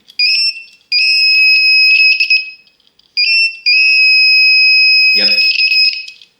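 A coax cable toner emits a loud, steady electronic beep on continuity, sounding in long sustained tones with short gaps, and a voice briefly speaks over the end.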